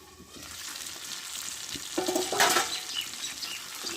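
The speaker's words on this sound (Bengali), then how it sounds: "আমি ঢাকনাটা তুলে নেবো দিয়ে আমি লেড়ে দেবো একবার" Jackfruit curry sizzles and fries in a pan as it is stirred, a close, steady crackle with a louder burst of frying and scraping midway, and no voices.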